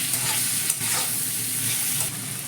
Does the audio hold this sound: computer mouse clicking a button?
no